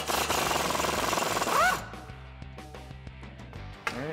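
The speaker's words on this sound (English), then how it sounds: "I've got an 18 millimeter wrench here and a 15 millimeter socket on my impact." An impact wrench with a 15 mm socket hammers at a shock bolt on a 2015-2019 Ford F150 in a loud, rapid rattling burst that stops, followed by faint clinks.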